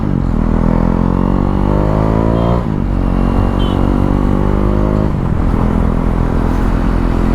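A motorcycle on a short ride, picked up by a GoPro HERO 7 with an external mic: a steady, loud engine drone that rises in pitch through the gears, with a brief dip and shift midway and constant road and wind noise.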